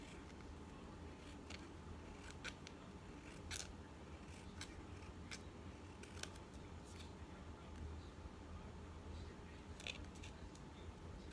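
Scissors trim the sides of a small paper envelope made from Dollar Tree supplies, giving a few quiet, scattered snips spread over a soft, steady background.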